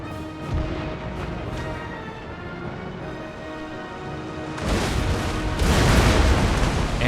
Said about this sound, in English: Oh, the ship is destroyed